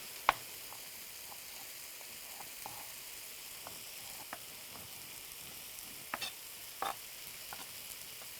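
Mushrooms and green peppers sizzling in a skillet for a mini pizza topping, a soft, steady low hiss with a few light clicks and scrapes scattered through, no talking.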